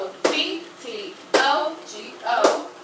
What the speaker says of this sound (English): So, you're gonna clap.